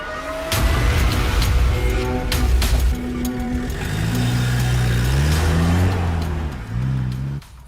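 A car engine catches and revs, then settles into a loud, steady running hum as the vehicle pulls away, the pitch shifting as it accelerates, with no voices over it.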